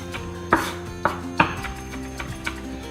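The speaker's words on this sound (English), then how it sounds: "So I'm just chopping up some thyme now as well." A knife chops fresh thyme on a board with about three firm, distinct strikes followed by lighter taps, close and clear with no talking.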